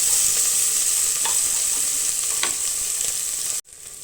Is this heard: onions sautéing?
yes